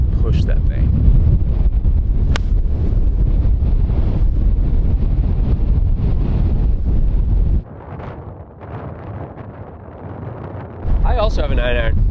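Wind buffets a microphone on an outdoor golf course, a loud roaring rumble that drops briefly before returning, with people talking over it.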